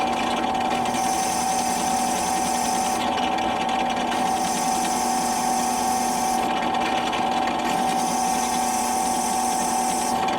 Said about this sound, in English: I'm going to do some edging with the Dremel, and then the belt sander and everything.